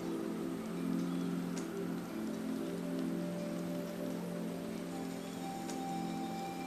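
Steady rain falling in a tropical rainforest, a dense even hiss of drops on leaves with occasional louder nearby drips, continuous and moderately quiet.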